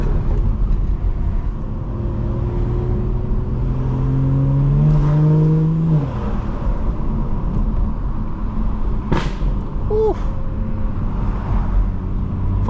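A BMW 440i engine drones steadily on the road, rising in pitch as it accelerates and then easing off, with road and traffic noise underneath and a few brief sharp clicks later.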